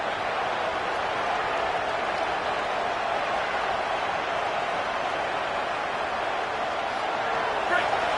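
Football stadium crowd on a fourth-down defensive stand roars in a steady, dense wash of cheering that stays loud throughout, with a commentator talking over it.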